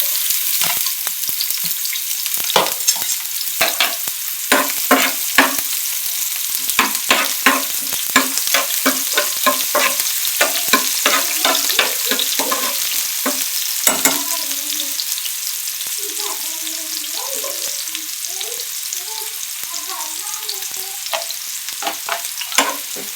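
Onion and cumin seeds fry in a pan of oil for a drumstick-leaf dish, a steady sizzle broken by repeated scraping stir strokes, with quieter bubbling crackle toward the end.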